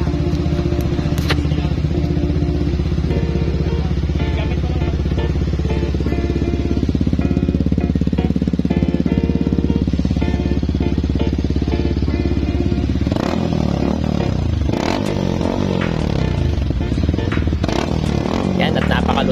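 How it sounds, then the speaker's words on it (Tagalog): A Yamaha WR155R motorcycle fitted with a Norifumi full system exhaust revs loudly and up close, a deep continuous engine roar with rising blips toward the end, while people talk over it. "lumabas na tunay na puwersa ng WR155R dahil sa kanyang bagong full system exhaust na Norifumi"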